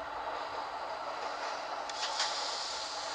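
A low rumbling metro train noise from a metro simulator video game, with a rising hiss and a few brief high brake squeals near the end, fairly quiet and without speech.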